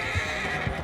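A horse in Red Dead Online gives one short, close whinny, with a faint clip-clop of hooves beneath it.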